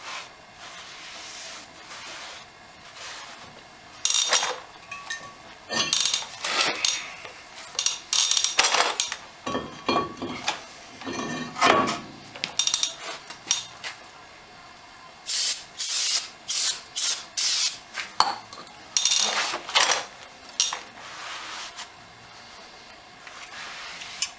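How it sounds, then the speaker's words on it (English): Repeated hissing sprays of cleaner on a new brake rotor for a 2006 Ford F350 dually, the blasts coming in irregular bursts with clinks of metal between them, close and fairly loud. "They do come with a protective coating on them. Keep them from rusting, so we just want to clean that up, get that coating off."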